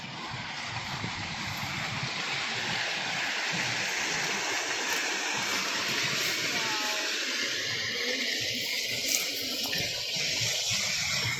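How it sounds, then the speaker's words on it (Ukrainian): Continuous broad rushing of river rapids near the Pantano de Elche reservoir, loud and steady with churning spray throughout and no clear breaks. "Пороги побачили."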